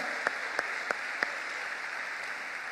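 A church congregation claps for the Lord during a sermon: a handful of sharp, separate claps stand out over a steady wash of crowd noise, fairly close and short-lived.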